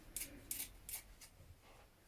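Scissors snip a raw fabric edge on a blouse in about five quick crisp cuts, close and quiet, spaced unevenly with faint background hiss.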